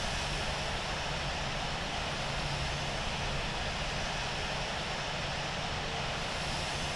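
Steady, loud airliner engine drone as a Qantas jet taxis toward runway 34 right in Infinite Flight, a constant broadband roar with no pauses or voices.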